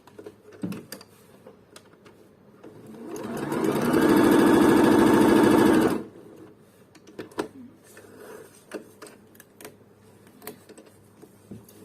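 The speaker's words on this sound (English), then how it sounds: "Okay, testing the machine." A Bernette Sew and Go 8 sewing machine, just cleaned and oiled, stitches a test seam in a single steady burst of about three seconds, close and clear, with light handling clicks before and after.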